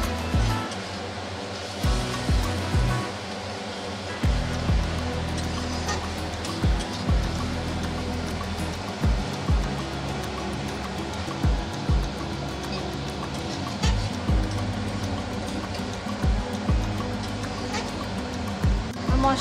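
Spice masala sizzles in a pan after water is added, giving a steady, fairly loud hiss. Regular short dips break the hiss as it is stirred, and it carries on without let-up.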